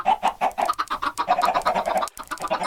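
Chickens in the Minecraft video game cluck in a rapid, continuous series of short clucks, close and fairly loud, with no talk over them.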